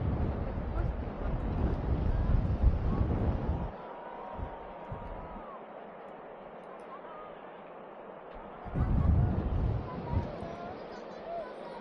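Wind gusting across Koksijde beach in Belgium, buffeting the microphone with a loud, rough rumble at the start and again near the end, easing to a quieter hiss in between.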